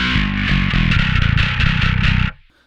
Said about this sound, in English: this just chainsaw-esque distortion that's crushing everything.